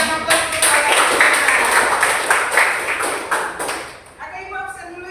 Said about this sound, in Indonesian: Terima kasih Aprilia, kita berikan aplaus kepada kita.